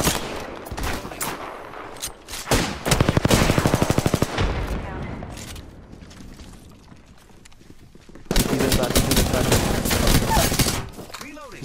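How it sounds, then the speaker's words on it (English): Enemy gunfire in a shooter game crackles in dense automatic bursts, with a rapid volley near the start and another long burst later, loud and close amid footsteps and game noise. "Enemies are shooting at me."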